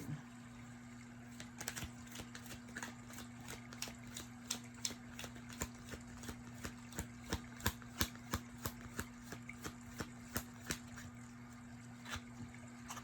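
Tarot cards are shuffled in a steady run of crisp riffling flicks, close and fairly quiet, over a low constant hum.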